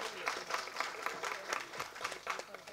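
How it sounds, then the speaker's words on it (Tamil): Audience at a film event applauding the film's music composer, a faint, continuous patter of many hands clapping from a distance. "முதல்ல அவருக்கு ஒரு கைத்தட்டல் கொடுப்போம்."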